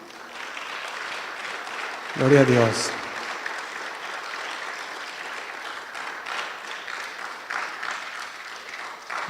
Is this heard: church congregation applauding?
yes